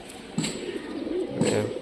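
Local Rajshahi flying pigeons coo close by, two soft, rolling, throaty calls in quick succession over faint background hum.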